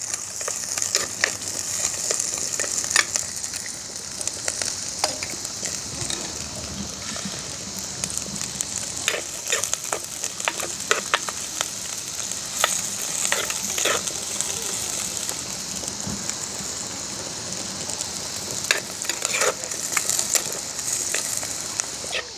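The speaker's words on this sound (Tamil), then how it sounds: "சின்ன வெங்காயத்தையும் உள்ளியையும் வதங்க விட போகிறேன்." Small onions and garlic frying in a pan, giving a steady hiss and crackle of sizzling oil that holds throughout at moderate loudness, close to the listener.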